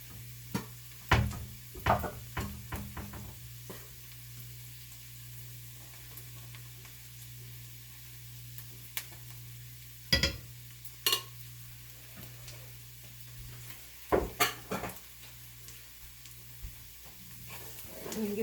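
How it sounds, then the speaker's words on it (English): Flour stirred and cooked in a frying pan gives a low sizzle, with repeated scraping and tapping of a utensil against the pan in bursts. "And get that flour cooked, raw taste cooked out of there"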